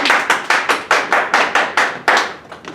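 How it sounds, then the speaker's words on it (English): A classroom group claps briefly after a physics demonstration, with about a dozen distinct, fairly evenly spaced claps that are close and loud, with no talk over them. "Clap for Preston."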